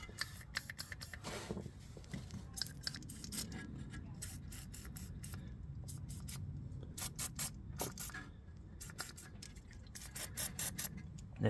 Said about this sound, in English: This side I might just spray with some penetrative fluid